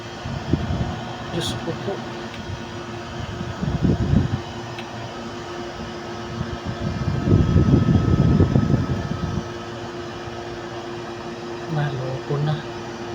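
The compressor of a window-type air conditioner runs with a steady mechanical hum and drone. Someone talks over it, and the noise swells in louder bursts.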